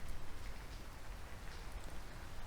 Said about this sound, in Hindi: दोस्तों, आप यहाँ पर देख सकते हैं बारिश अभी भी शुरू है।